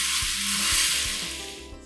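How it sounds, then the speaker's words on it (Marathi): Hot tempering of mustard seeds and asafoetida poured over fresh turmeric pickle, giving a loud, bright sizzle that surges at first and then slowly fades, with a few soft low knocks underneath. "ही गरम गरम फोडणी आपण लोणच्यावर ओतून घ्यायची"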